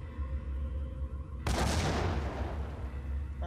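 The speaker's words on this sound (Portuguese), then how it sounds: "aquelas explosões também não me deixam apontar como deve ser" In the Max Payne video game, a sudden loud explosion bursts over a low rumbling background of combat, its roar lingering and decaying as the fighting continues.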